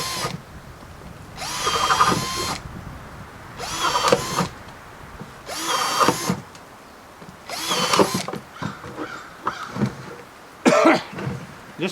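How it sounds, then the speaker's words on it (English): A power drill whirs in several short bursts of a second or so each, drilling holes, separated by pauses, with faint handling noise and a cough between runs, at a log cabin deer hunting camp. "I gotta drill some holes here"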